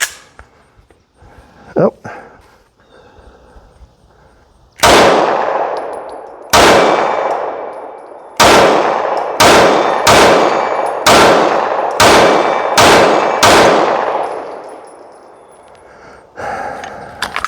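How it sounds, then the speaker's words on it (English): Steyr M9A2 pistol fired on a range with a red dot sight, about ten sharp loud shots in an uneven series with short gaps, each ringing out briefly; a brief exclamation comes early. "So let's get some first shots in."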